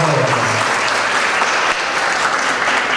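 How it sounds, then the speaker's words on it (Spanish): Loud, dense applause for the families of the students at the closing ceremony of an international cooking workshop in Zacatecoluca, a continuous roar of many hands clapping close by with no pauses, a low murmur faintly beneath. "démosle un fuerte aplauso a todos los familiares que hoy acompañan a los jóvenes"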